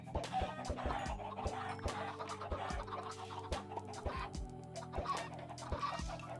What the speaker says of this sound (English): I think I was killing those chickens because I was knocking them to the wrong side